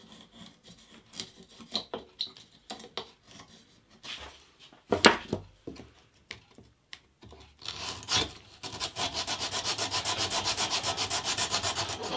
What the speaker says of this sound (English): cut the end pieces off and round them on the uh, sander